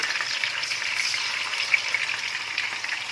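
Chicken seekh kebabs fry in a pan over a medium gas flame, giving a steady, close crackling sizzle that stays even throughout with a few brief pops.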